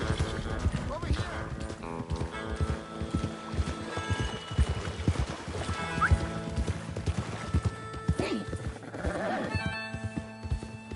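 Horse hooves clip-clop in a steady rhythm while a horse neighs now and then in Red Dead Redemption 2, mixed under game music and people talking.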